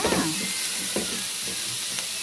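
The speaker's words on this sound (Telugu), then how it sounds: "చూడండి, అల్లం వెల్లుల్లి వేగేస్తుంది." Ginger and garlic sizzle in hot oil with a close, steady hiss, as a spoon stirs them in a few soft scraping strokes.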